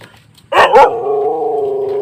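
A single hungry stray dog barks close and loud beside the Pa Sak Jolasid Dam, followed by a sustained whining growl that holds steady to the end.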